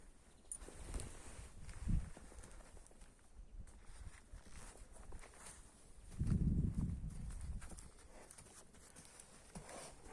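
Faint, distant hoofbeats of a running mare thud irregularly in a quiet outdoor setting, with a couple of heavier strikes standing out.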